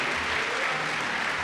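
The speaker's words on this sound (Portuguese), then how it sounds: "você pode aplaudir a Deus por isso?" Church worshippers clap together in a dense, continuous burst of applause at an even, fairly loud level, with no voices on top.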